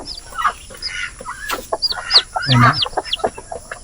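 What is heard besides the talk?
chickens clucking, Rhode Island Red and native chickens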